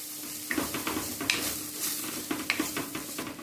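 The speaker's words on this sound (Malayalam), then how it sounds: "ഈ പൊടികളെല്ലാം നന്നായിട്ട് വഴറ്റി കൊടുക്കാം" Spice powders sautéed in a pan for rajma gravy, a soft sizzle under repeated spoon scrapes and light clinks against the pan, close by and with no talking.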